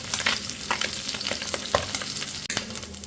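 Small fish fry in very hot oil in a kadai, making a dense, steady sizzle with crackling spits and stirring clatter throughout, close up and with no voices, and one brief clunk near the end.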